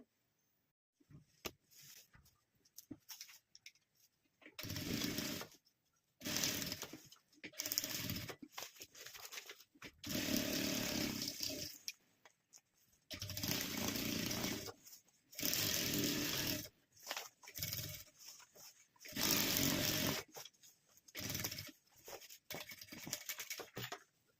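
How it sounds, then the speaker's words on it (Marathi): Sewing machine stitching a belt onto a handmade purse sewn from an old saree, running in close, loud bursts of a few seconds each separated by short pauses, with no talking. "आपण अशी टीप मारून घेऊया दोन्ही साईडनी आणि बेल्ट लावून घेऊया"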